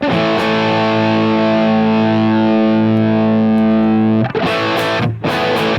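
A sustained, heavily distorted electric guitar chord through a Line 6 Helix amp modeler rings out loud for several seconds, then a few short choppy strums follow.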